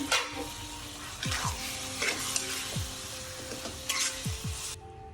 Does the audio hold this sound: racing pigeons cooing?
no